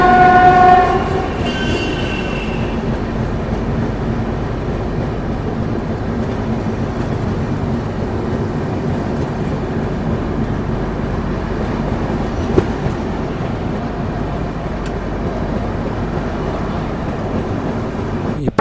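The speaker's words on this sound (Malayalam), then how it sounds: "ഇപ്പം നമ്മുടെ ട്രെയിന് ബനസ്വാടി റെയിൽവേ സ്റ്റേഷൻ സ്കിപ്പ് ചെയ്തുകൊണ്ട് പോവാണ്." Train rolling past Banaswadi railway station without stopping on a Yesvanthpur to Coimbatore journey, a loud horn blast at the start, then a steady close rumble and rattle of carriages continuing throughout.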